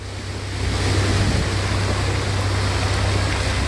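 Loud, steady rush of floodwater surging past a truck that blocks its flow, a continuous roaring wash with a low rumble underneath, no voices.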